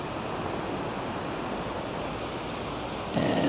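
Ocean waves break over the rocks at Currumbin Beach on the Gold Coast, a steady broad wash of surf that rushes on evenly from a moderate distance, with a brief brighter burst near the end.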